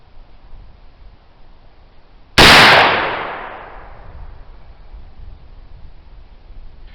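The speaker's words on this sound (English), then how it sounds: "shot number 2 with our grapevine charcoal homemade black powder" A single loud shot of homemade black powder made with grapevine charcoal, a sharp blast that decays over about a second with a ringing tail, alone against steady outdoor background noise.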